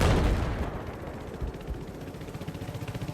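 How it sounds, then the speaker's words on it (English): Rocket artillery and gunfire in a 10vs10 Conquest battle on the Zavod map, opening with a loud booming blast that decays into a rapid rattling barrage of shots and impacts. "Watch out for that rocket artillery."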